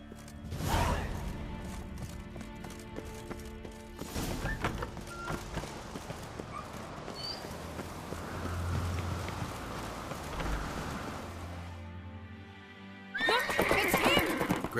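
Horses in The Witcher 3 game neigh loudly and whinny, with hooves clip-clopping and rustling movement, a burst of neighing at the start and another near the end.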